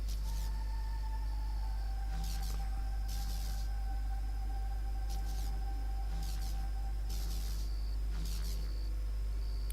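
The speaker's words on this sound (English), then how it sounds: "If I get up close enough, I can hear a slight buzz, a sure sign that this fence is electrified." Electrified barbed-wire fence in the game Dead Synchronicity giving off a constant low hum, with a faint high whine and brief clicking chirps recurring every second or so.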